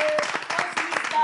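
A short burst of dense audience clapping for the coaches at a French-speaking event, loud and continuous throughout, with faint voices or tones threaded underneath.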